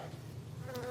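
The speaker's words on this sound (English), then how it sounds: "That is a box of bees." Honeybees from a captured swarm buzz steadily inside a wooden swarm capture box, a close, continuous droning hum with a faint higher whine rising near the end.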